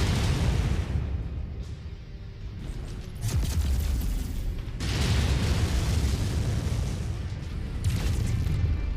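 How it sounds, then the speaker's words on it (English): Heavy missile impacts in the Mechwarrior 5: Mercenaries mech combat game, three loud booming bursts with rumbling tails spaced a few seconds apart over constant low mechanical din. "Incoming missile."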